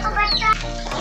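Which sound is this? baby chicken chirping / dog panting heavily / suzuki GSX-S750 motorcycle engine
baby chicken chirping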